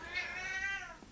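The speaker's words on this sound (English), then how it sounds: "Crazy cat sounds." A cat gives a single drawn-out meow, rising then falling in a wavering, almost caterwauling pitch, heard close and alone for about a second.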